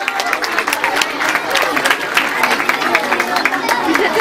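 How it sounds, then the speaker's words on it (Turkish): A school audience applauds at a Republic Day celebration, the clapping thick and continuous, loud and close, with a few voices mixed into the crowd. "alkışlarınızla davet ediyorum"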